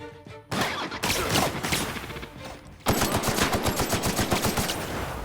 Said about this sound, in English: Oh, right, it's an assault rifle.